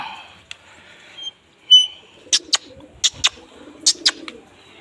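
Pigeons, including a blue hen pigeon, call in a loft with a quick run of short, sharp bursts in uneven pairs over a faint low murmur, fairly close and with no voices.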